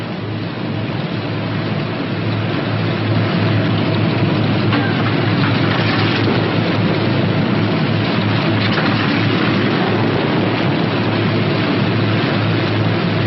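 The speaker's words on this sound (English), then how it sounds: "Now we're ready to run through the same procedure for the left engine." A WWII P-61 Black Widow night fighter's left piston engine runs up at idle during ground checks, a loud, steady droning rumble mixed with broadband noise that continues unchanged throughout, with no talk.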